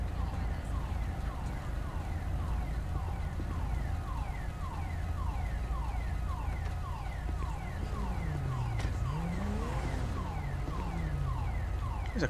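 A car alarm in a roleplay video game cycles through repeating rising and falling electronic whoops, loud and steady. A lower wailing sweep joins near the end, with faint background hum beneath.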